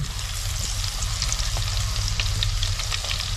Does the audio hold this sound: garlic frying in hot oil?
yes